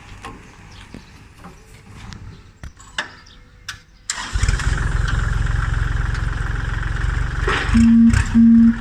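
Clanks and clicks, then the diesel engine of a used Kubota L3608 tractor cranks and catches, settling into a loud low rumbling idle with two short beeps near the end.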